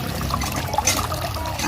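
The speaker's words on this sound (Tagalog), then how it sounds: "Ito yung improvise namin sa may poso para yung tubig mas malapit na dun sa may halaman." Water streams steadily from an improvised extension on a hand pump beside garden plants, a continuous close pouring and trickling splash with no break.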